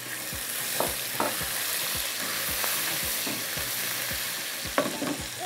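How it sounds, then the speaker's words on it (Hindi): Ginger and garlic frying in a pan give a steady broadband sizzle, with repeated scraping stir strokes knocking through it at an uneven rhythm, close and fairly quiet, no voices. "अब ये हो गया फ्राई, इसके अंदर जाएगा अदरक लहसुन"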